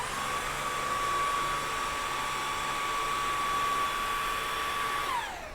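A vacuum cleaner runs on carpet while picking up hair, making a loud, steady close-up motor whine with a high, constant tone that drops away as the motor winds down at the end.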